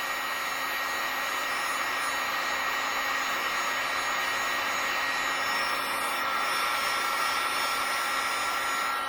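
A heat gun blows hot air over a Honda Goldwing piston, giving a steady, unbroken whooshing roar at even loudness throughout with no voices.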